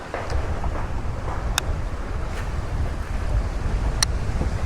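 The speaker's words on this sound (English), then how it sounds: "That wind is serious." Strong wind buffets a boat out on the water during a fall bass fishing trip, a steady loud roar with microphone rumble and a couple of brief clicks, no talking.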